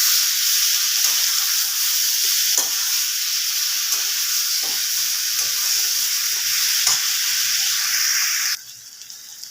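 Vegetable curry sautéing in ghee in a pan gives a loud, steady close sizzle with occasional scraping stirs, and the frying hiss drops abruptly near the end.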